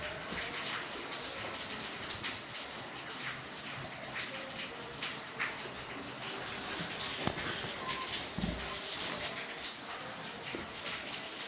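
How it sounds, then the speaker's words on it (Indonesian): Steady rain falls under an overcast afternoon sky, a continuous dense patter with heavier drips and splashes throughout, no voices present. "siang ini hujan, langit mendung."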